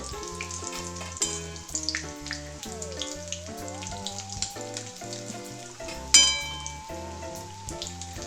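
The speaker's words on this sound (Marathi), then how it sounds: "त्याला थोडंसंच तळून घ्यायचं आहे" Stale chapati cones with a sautéed filling fry in hot oil, a soft crackling sizzle that sits beneath prominent melodic background music, with one sharper splash near the end.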